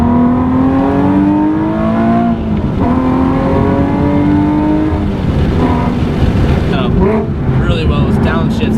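A 400 hp Nissan 370Z Nismo engine revs strongly, with rising pitch sweeps for gear changes and quick downshift blips near the end, heard loud and close from inside the car.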